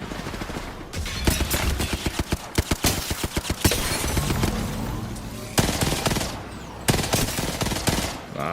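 Gunfire in the battle royale shooter Apex Legends: rapid automatic bursts crackle loudly and close in several volleys, with short pauses between strings of shots and a brief gap before two final bursts.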